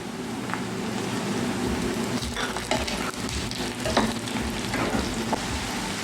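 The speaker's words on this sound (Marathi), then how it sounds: "चला आता याच्यात आपण आलं लसूण पेस्ट टाकूया." Ginger garlic paste sizzles steadily in a pan with chopped onion for Bengali-style chicken kosha, a continuous close frying crackle with a few soft stirring scrapes.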